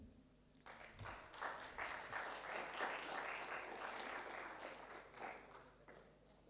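A steady wash of applause from a crowd, rising quickly and sustained for several seconds, heard from a short distance.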